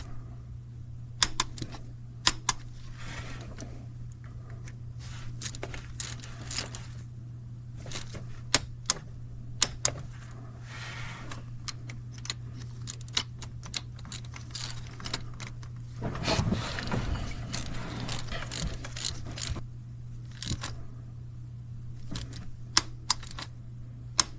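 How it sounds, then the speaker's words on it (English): A torque wrench tightens bolts on the oil cooler of a Sprinter van, giving scattered sharp clicks and ratcheting ticks close by over a low steady hum in a workshop. "Once again, I'm torquing these bolts to 106 inch-pound."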